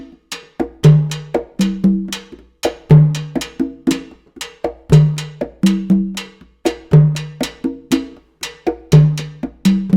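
Bossa nova pattern on timbales with conga pattern: a dense, driving loop of bright shell clicks and ringing head hits layered with deeper conga tones, steady syncopated rhythm repeating every second or so, close and alone.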